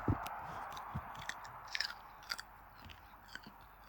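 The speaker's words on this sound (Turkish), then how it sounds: "İki dakika yine avuç ısıracağım." Soft biting and chewing sounds from a person gnawing on their own palm during a tense football match, a few faint crunchy bites spread across a quiet stretch.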